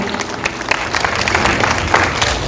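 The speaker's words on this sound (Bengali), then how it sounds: "তার সকলের জন্য একটা জোরে হাততালি দেবেন।" Loud, continuous audience applause fills a stage hall at an annual academy conference, with dense clapping holding steady throughout and swelling slightly near the end.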